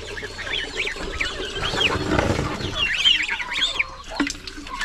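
Goose chicks peep in high thin repeated calls, several overlapping nearby, with rustling and some low background noise beneath; no speech.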